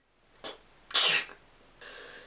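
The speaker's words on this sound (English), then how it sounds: "The function of sneezing is to expel mucus containing foreign particles or irritants and cleanse the nasal cavity." A single close sneeze: a quick indrawn breath, then a loud sharp burst that fades into a short exhale.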